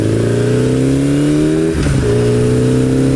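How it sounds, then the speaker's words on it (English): A Suzuki GS850 motorcycle engine runs loud and steady on a morning ride, revs dipping briefly partway through before settling back into a constant drone. "Get that wind blowing. Feeling the revs of the bike."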